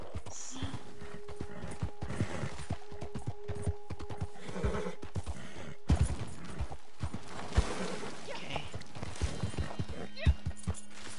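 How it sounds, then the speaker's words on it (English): Horse hooves clip-clopping at a steady gait in Red Dead Redemption 2 online role play, with whinnies and creaky tack mixed in, moderately close, while a person talks over the ride. "Come on, horse, do it!"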